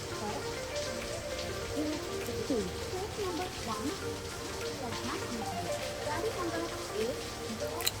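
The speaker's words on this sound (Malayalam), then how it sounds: "നല്ല മഴയാണ് പുറത്ത്." Steady heavy rain patters on surfaces outside at a busy railway station, a dense constant hiss with faint voices murmuring in the background.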